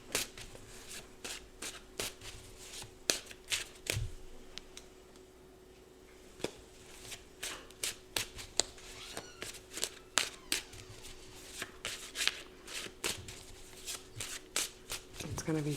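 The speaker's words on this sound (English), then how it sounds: "Let's just try to shuffle." A handcrafted Thoth tarot deck is shuffled by hand, giving close, crisp bursts of riffling and card slaps in quick irregular clusters, with a brief pause midway and occasional soft voice underneath.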